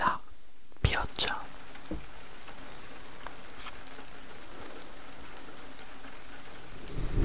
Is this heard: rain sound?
yes